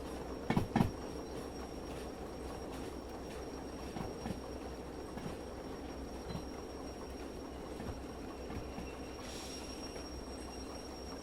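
Freight train rolling on rails in the Derail Valley train simulator while shunting flat cars, a steady low rumble with a few sharp clanks and bumps early on and faint squeal later.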